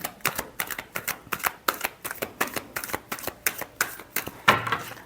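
Tarot cards are shuffled in a quick, steady run of crisp riffling bursts, close and fairly quiet, repeating about every third of a second with no voice over them.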